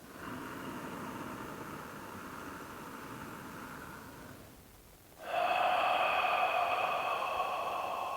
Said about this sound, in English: think of breathing down even deeper into that area